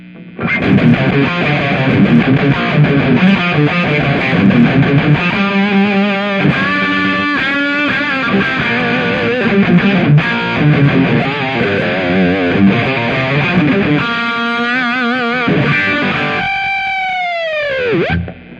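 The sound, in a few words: distorted electric guitar amplifier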